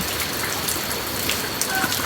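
Heavy rain pours steadily in rural farmland in Thailand, a dense unbroken hiss of drops drumming on surfaces close by, with no voices over it.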